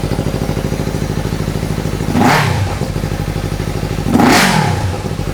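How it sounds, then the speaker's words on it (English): A Yamaha R3 motorcycle engine, from 2015 or later, running at a steady rhythmic idle close by, with two brief revs blipping it louder before it settles back. "I'm just gonna quickly start the bike, make sure the pump primes, make sure everything runs properly"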